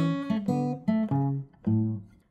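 Acoustic blues guitar plays a short main riff, a handful of plucked notes and slides ringing close and clear, alone without talk.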